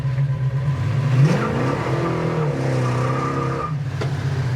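A 1974 Plymouth 'Cuda engine revs and accelerates hard, its pitch climbing through a gear before settling into a steady loud drone, close up and with no talking.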